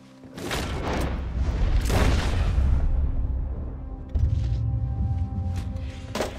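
Gunshots ring out in Red Dead Redemption 2, two sharp, loud booming blasts about a second and a half apart, followed by a lingering rumble and a smaller crack near the end.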